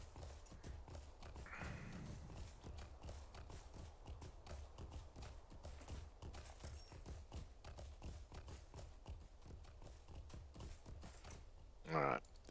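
Regular clip-clop of a horse's hooves crossing a bridge in the online game The Lord of the Rings Online, steady and rhythmic throughout, with a brief whinny early on and a short sharp sound near the end.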